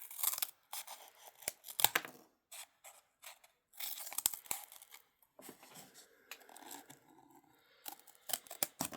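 Scissors snip through paper in bursts of crisp, close cuts with rustling and crinkling between them and brief pauses, as paper is shaped for a rubbish-art sculpture; no voices.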